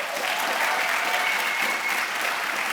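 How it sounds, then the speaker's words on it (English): A graduation hall audience at a spring master's hooding ceremony gives a sustained round of applause, a dense, even roar of many hands clapping continuously and fairly loudly throughout. "let's just give our graduates another round of applause."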